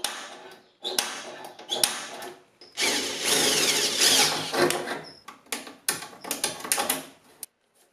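A power drill bores the last hole through a widebody overfender backed by three layers of cardboard: a loud whirring burst runs for a couple of seconds amid shorter spurts and clicks, close up with no talking.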